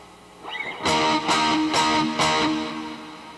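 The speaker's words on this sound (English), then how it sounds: "Now I've got delay." An instrument is played through a delay effect during a live gear show, with four bright, strong chords or notes spaced about half a second apart and ringing repeats trailing under them.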